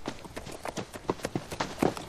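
Horse hooves clip-clop on the ground in a period drama setting, a steady series of moderately close, evenly spaced hoofbeats over about two seconds with no talking.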